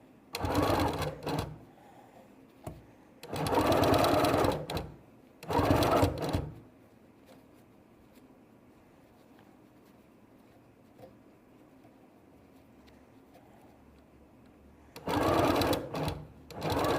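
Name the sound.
sewing machine stitching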